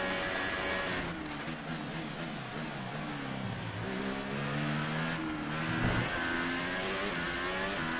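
A McLaren Formula 1 car in the F1 2018 racing game revs hard and continuously through its gears, with a loud, sustained engine whine that rises and falls in pitch throughout.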